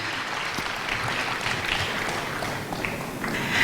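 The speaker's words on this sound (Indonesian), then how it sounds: "Boleh tepuk tangan sekali lagi dong untuk Pastor Juan Moji." Sustained audience applause at a gala dinner seminar for a pastor, a dense continuous roar of many hands clapping in a large room, steady throughout and swelling slightly at the end.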